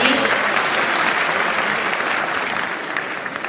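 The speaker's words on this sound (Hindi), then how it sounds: "इस बात के लिए जोरदार तालियां होनी चाहिए।" Sustained audience applause fills a hall at a state-level teachers' award ceremony in Rajasthan, steady and fairly loud for a few seconds.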